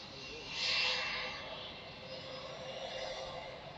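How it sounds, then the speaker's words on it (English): Qantas Boeing 787 taxiing at Melbourne Airport at night, a distant jet engine whine and rumble that swells briefly early on then settles into a steady hum, with faint talk underneath. "We've got the Qantas 787, QF95 taxiing"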